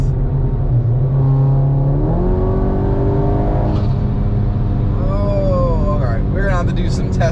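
A car with 034 Motorsport Dynamic+ ECU and TCU tuning accelerates hard in S mode, the engine note rising steeply through each gear with quick shifts between pulls, loud and close from inside the cabin, while a driver talks excitedly throughout.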